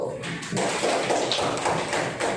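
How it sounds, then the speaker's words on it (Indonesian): A classroom audience clapping for a student group, a brief, close patter of hand claps with a few individual taps standing out. "Tepuk tangan untuk kelompok 1."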